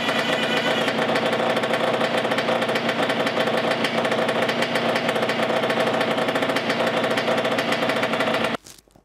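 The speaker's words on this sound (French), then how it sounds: "Le sifflement qu'on avait entendu sur la première tentative de démarrage est encore présent." A Cagiva Freccia C12R motorcycle engine runs steadily and loudly with a faint whistling noise above the engine note, then it cuts off abruptly just before the end.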